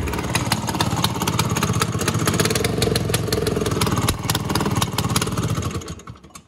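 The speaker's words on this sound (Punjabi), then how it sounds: "ਮੈਂ ਸਟਾਰਟ ਕਰੂੰਗਾ ਠੀਕ ਹੈ, ਉਹ ਤੋਂ ਬਾਅਦ ਆਵਾਜ਼ ਚੈੱਕ ਕਰਿਓ ਕਿੰਨੀ ਲੀਕੇਜ ਕਰਦੀ ਹੈ" A motorcycle engine with a leaking exhaust runs close by in a fast, even, chugging idle that carries on steadily before cutting out near the end.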